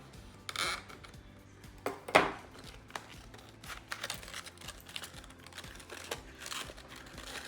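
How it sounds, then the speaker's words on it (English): Cutting open the seal on the box of a WD My Passport 6 TB hard drive, a series of faint close ticks and scratchy slits with a sharper tear near the middle. "Let's cut the seal open."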